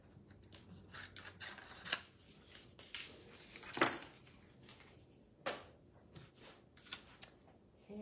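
Scissors cut down a strip of Post-it note tape close by, with several soft, crisp snips and rustles scattered among quiet handling sounds.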